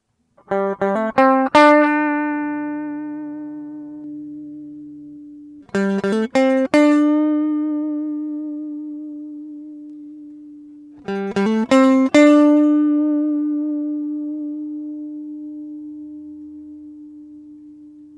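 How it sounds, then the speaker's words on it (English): Three short phrases of plucked notes on a MOGABI V3 electric guitar, each ending on a long sustained tone that rings out with reverb before the next phrase begins. "recording the guitar with different pickups, with different tones, and with different levels of reverb"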